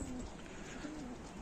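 Homing pigeons cooing in a loft, a few soft, low rolling coos repeating faintly over quiet background hiss.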